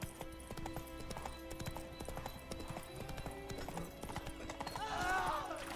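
Hooves of Roach, the horse in The Witcher 3 video game, clip-clop in a steady galloping rhythm, mixed with game music and a brief whinny near the end.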